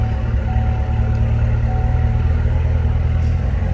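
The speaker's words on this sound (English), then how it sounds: "It has a V8 engine, as you can hear." A 2016 Chevrolet Corvette Z06 3LZ with its V8 engine idling, a steady, loud, deep rumble heard from inside the car, with no talk over it.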